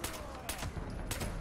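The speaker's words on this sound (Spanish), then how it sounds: "¿Esta cantidad de tiros?" Gunfire in the video game Fallout 76, set in a gloomy prison area: repeated bursts of shots in dense, continuous volleys across the clip, loud and close, with a short break around the middle.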